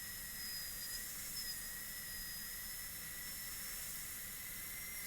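A high-speed dental drill burr smooths the gingival floor of a molar cavity, a thin continuous high-pitched whine with a fainter lower tone, holding steady and quiet for several seconds.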